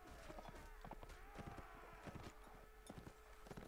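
Horse hooves in the video game Mount & Blade Warband: a rapid, continuous clatter of hoofbeats, very faint, under a steady hum of game sound.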